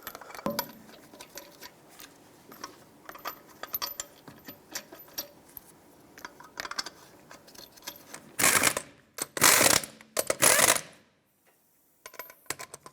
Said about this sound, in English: Start on all 5 of your lug nuts, snug them up, and torque them to 76 foot-pounds.